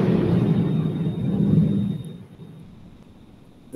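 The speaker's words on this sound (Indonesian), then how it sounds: "suara petir ini deras banget hujannya." Thunder during heavy rain, a broad low rumble that swells for about two seconds and then fades into a quieter, lingering roll, with no voices.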